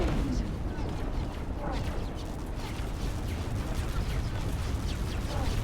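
Explosions and gunfire in a space combat scene in X4: Foundations, with dense, continuous rumbling blasts and crackling bursts under a voice.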